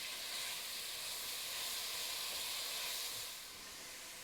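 Carrots and celery cook in a soup pot, giving a steady, broad sizzling hiss that runs throughout and eases slightly near the end.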